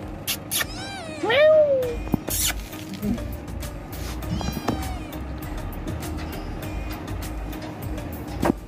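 A domestic cat meows near a large pet ram, about 2.5 feet tall, in a yard: a few clear, close meows early on, then scattered shuffling and patter under steady background noise.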